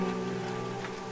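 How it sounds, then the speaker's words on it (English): Steady rain falls in a thriller film scene, a soft continuous patter with a faint tonal hum underneath, even and unbroken for the whole moment. "It's raining."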